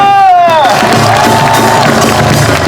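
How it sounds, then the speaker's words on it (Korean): An outdoor crowd at a traditional Korean percussion and plate-spinning performance on a festival stage cheers and claps loudly, with a rising whoop at the start and dense crowd noise throughout. "여러분들의 박수 소리 한번 들어봐야겠어요"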